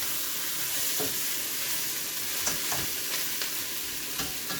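Chicken feet frying in a pot with seasoning and other ingredients for a Jamaican curry stew over a medium flame, a steady close sizzle with occasional stirring scrapes, no talking.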